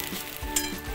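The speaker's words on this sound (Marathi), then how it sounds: "हा पूर्ण भाजल्यानंतर दुसरा कांदा भाजणार आहोत" Onion dry-roasting in a pan for homemade Malvani masala gives a steady, close sizzle with soft stirring scrapes, continuous through the short moment.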